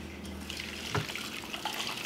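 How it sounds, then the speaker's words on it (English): Custard mixture poured back into a saucepan in a home kitchen, a soft continuous liquid trickle and splash with one brief clunk partway through. "So now we're going to put this mixture back in our saucepan."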